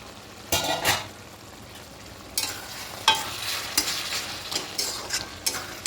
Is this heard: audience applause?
no